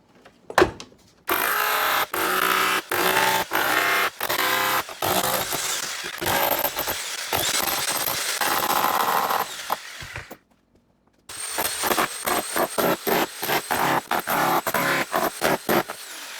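A power hammer chisels with a point bit, then a flat chisel, in loud, dense bursts of rapid impacts, broken by a short pause partway through and then resuming in shorter choppy runs.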